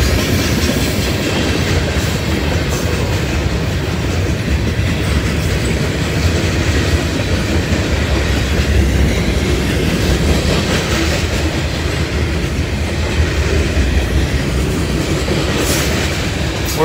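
A long freight train of 590 axles, with a distributed power unit, rolls past at night with a loud, continuous rumble and rhythmic wheel clatter on the rails that never lets up.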